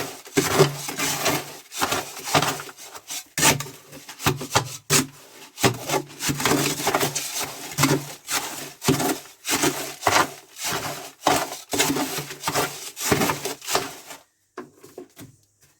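Mortar being mixed by hand for anchor points in a bunker shaft wall, a steady rhythmic scraping and rubbing of a trowel through the stiff mix, close and continuous before stopping abruptly near the end.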